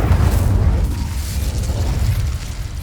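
A fire spell cast in Hogwarts Legacy bursts out as a loud, heavy whoosh with deep rumbling body, sustained and fading slightly over a few seconds.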